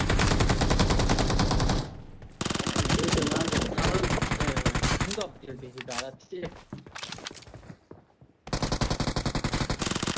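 Loud bursts of automatic gunfire from a shooter game come in long volleys, broken by short pauses with footsteps and quieter clatter, before the firing resumes.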